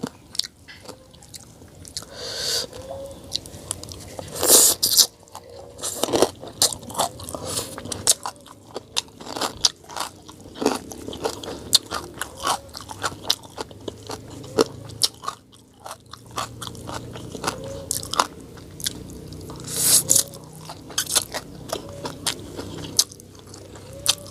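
Crisp raw purple cabbage is bitten and chewed close up, giving sharp crunches followed by softer wet chewing that repeats in uneven bursts over a quiet background.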